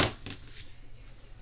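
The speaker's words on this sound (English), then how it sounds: "Then I'm just going to peel up those stickies" Sticky tape pieces peel off a paper Valentine pop-up card in a few quiet, short rasping tears, faint and close, with no talking.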